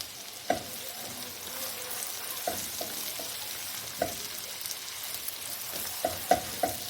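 Onions frying on high flame in a pan for chicken salan, a steady soft sizzle with sharp stirring clinks and scrapes scattered throughout, no voices.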